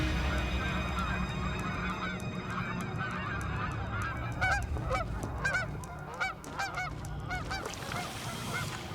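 A flock of Canada geese honking over and over, many calls overlapping and rising in a dense chorus above a steady low background rumble.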